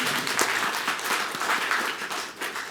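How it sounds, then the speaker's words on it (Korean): Congregation applause in a Korean church service honouring the choir after their hymn, a continuous dense clapping from many hands, moderately distant and even throughout. "성가대 수고하신다고 위로의 격려의 박수 한번 주시면 어떨까요?"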